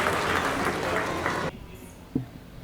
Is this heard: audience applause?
yes